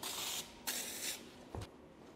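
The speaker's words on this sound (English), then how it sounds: "We just used a little bit of atmosphere spray. So it's basically like mist in a can." Several short hissing bursts of atmosphere spray, a haze mist released from an aerosol can, used to light a race car for a photo shoot; the sprays come one after another, quiet and close.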